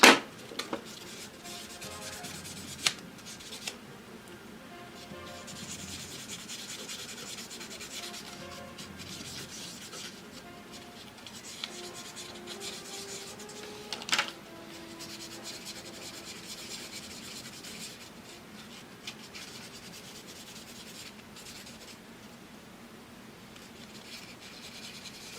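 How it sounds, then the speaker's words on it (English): A small plastic Gunpla part for a Master Grade MS-06K Zaku Cannon is sanded by hand: a quiet, steady scratchy rubbing that keeps going, broken by a few soft knocks and clicks. "Sanding does take it out of you, it sure does."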